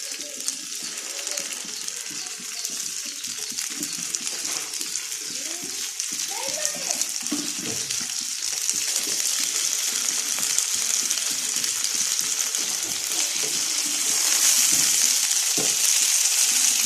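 Chicken pieces frying in sunflower oil while making mandi, a loud steady sizzle close by that grows slightly stronger over time, with a voice talking faintly underneath.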